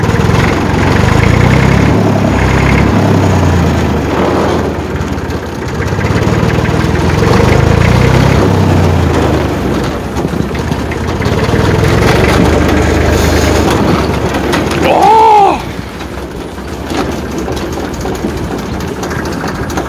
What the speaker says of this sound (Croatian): Gledajte kako prima gas ovaj traktor.